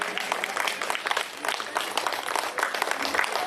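An indoor audience at a Brahma Kumaris gathering in Delhi claps in a continuous, fairly loud burst of applause that lasts the whole moment.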